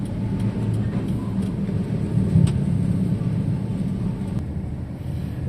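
Road traffic on the Pantura route between Lamongan, Gresik and Surabaya, with container trucks passing, gives a steady low engine rumble and tire roar that stays continuous and moderately loud.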